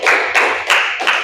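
A classroom of children claps together in four quick, loud bursts with short gaps, close and crisp with no talk over it.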